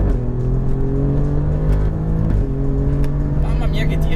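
An Alfa Romeo Giulia Quadrifoglio V6 fitted with a Ragazzon full exhaust accelerates hard in Dynamic mode on a straight. Its loud, close engine note climbs steadily, drops briefly at a gear change, then rises again.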